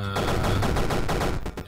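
Rapid revolver gunshots from the Super Crate Box video game, a dense run of sharp retro-style shots fired in quick succession at steady loudness for under two seconds.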